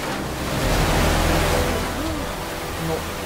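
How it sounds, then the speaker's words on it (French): A waterfall in Uncharted: Drake's Fortune, a loud, constant broadband rush of falling water that fills the whole short span, with brief faint voices or tones underneath. "Et cette cascade elle s'arrête plus!"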